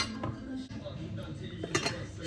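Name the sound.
glass teapot being handled, clinking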